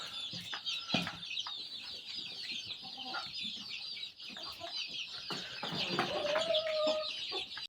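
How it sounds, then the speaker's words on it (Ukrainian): A dense chorus of three-week-old chicks peeps continuously at high pitch, with scattered clucks and rustling throughout, close and busy. "Курчата."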